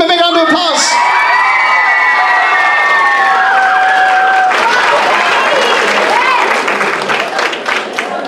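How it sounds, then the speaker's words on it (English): A school Transition Year variety show crowd greets performers on stage with loud, sustained applause, shrill whistles, whoops and children's shouts that swell then ease slightly toward the end. "Give him a big round of applause."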